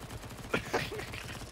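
Gunfire in Counter-Strike: Global Offensive, with a couple of quick sharp shots over game background noise.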